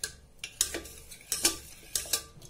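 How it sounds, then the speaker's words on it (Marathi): A spoon clinking and scraping in a steel pot while mashing pressure-cooked dal and tomatoes, a series of light metallic taps and stirring strokes at an irregular pace, close and fairly quiet. "चमच्याने जसं बारीक करायचं,"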